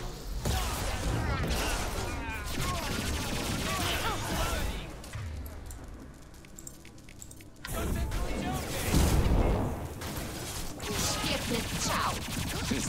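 Gunfire and combat in the video game Mass Effect 2, with loud bursts, impacts and crashing effects that rise and fall over several seconds and are mixed with talking.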